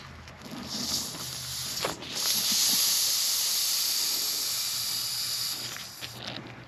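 A steady, airy hiss of vacuum drawing in, close by and continuous for several seconds, rising slightly before easing off, with faint clicks.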